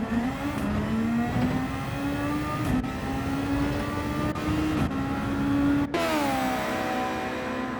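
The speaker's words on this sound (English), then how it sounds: "Now they'll be getting almost back up to full speed down this back straight until the hard braking zone for the hairpin." Racing cars in a Gran Turismo 7 Super Formula race accelerate down a back straight, a loud continuous engine whine climbing steadily in pitch, with brief shift dips and a sharp gear change near the end.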